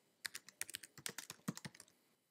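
Quick, quiet clatter of fingers typing a short word on a computer keyboard, a burst of about a dozen crisp keystrokes in a quiet room.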